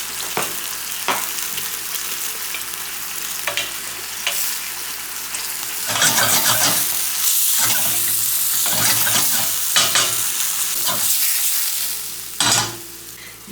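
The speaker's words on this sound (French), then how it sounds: "Je mets mon échalote dans mon beurre" A shallot fries in butter in a pan with a steady, close sizzle, sharp crackling bursts and spoon-stirring scrapes that grow louder midway.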